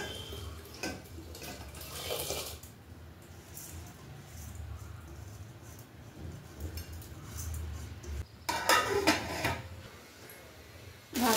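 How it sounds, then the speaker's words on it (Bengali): Rice grains washed with water in a pot in a home kitchen, with sloshing and splashing, light clinks and a few louder bursts of running water, mostly toward the end. "চটপট করে চালটা ধুয়ে দিয়ে দিই"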